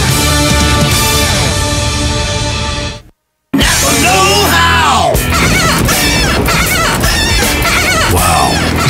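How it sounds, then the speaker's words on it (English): Worn windshield wipers squeaking like screaming, loud strained wails and shrieks that rise and fall continuously, broken by a brief silence early on. "Nope, it's your windshield wipers. And they're literally crying out for you to replace them."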